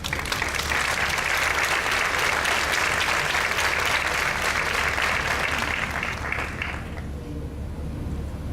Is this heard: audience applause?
yes